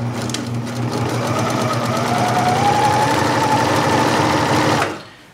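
A sewing machine stitches steadily along a handwoven tote, running forward and then reversing, a loud continuous mechanical whir lasting nearly five seconds before stopping abruptly.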